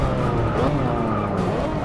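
A race car in Forza Motorsport 6 brakes hard into a turn on a hilly Australian circuit, its engine roaring continuously under loud, sustained tire squeal that stays close and constant throughout.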